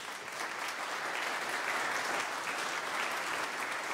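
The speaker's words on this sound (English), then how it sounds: "we owe them a round of applause for that." A concert audience at Prince of Peace applauds the donors, steady, even clapping from a full room that continues alone throughout.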